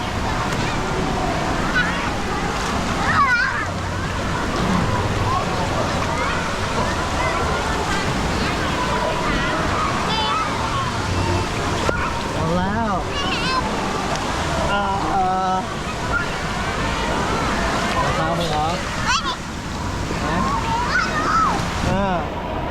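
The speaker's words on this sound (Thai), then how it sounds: "อันนี้เป็นคลื่นอะไรคลื่นจากยานอวกาศ" Water waves surge and slosh in a wave pool, a loud, continuous rushing wash with repeated swells and splashes close by, while people talk over it at times.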